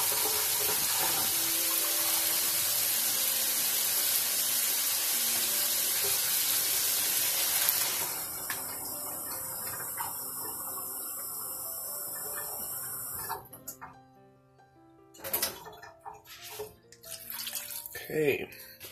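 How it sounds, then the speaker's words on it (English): Water pours into a hot pan of browned meat for a boxed Creole dirty rice mix, a steady rushing sizzle that cuts off partway, followed by quieter clatter and rustling of packaging. "I'm going to be adding 1 2/3 cup of water and the content of the package"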